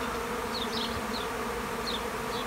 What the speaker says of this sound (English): Thousands and thousands and thousands of bees.